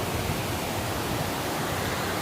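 Water flowing steadily near a bridge, a dense unbroken rushing wash that fills the whole moment like a small waterfall or fast stream, close and without voices.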